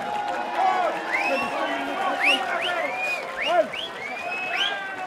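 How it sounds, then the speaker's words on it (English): A crowd at an MMA fight night applauds both fighters with steady clapping, mixed with whistles and cheers that rise and fall, while an announcer's voice carries over it. "Let's get a round of applause for both fighters,"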